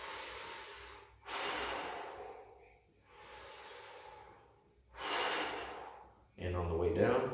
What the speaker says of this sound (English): You can breathe in.